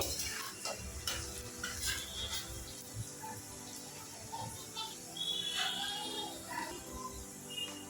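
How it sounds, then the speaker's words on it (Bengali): Quiet frying of onions for biryani with soft oil sizzle, punctuated by scraping and clinking of a spatula stirring in the pan. "এটা একটু লাল লাল করে ভেজে নিতে হবে পেঁয়াজটা আস্তে আস্তে ভাজা হতে থাক"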